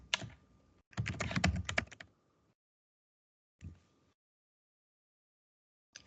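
Typing on a computer keyboard while filling in spreadsheet cells: a dense burst of clicking keystrokes, then a short separate flurry and a single final tap, close and clear with no talking.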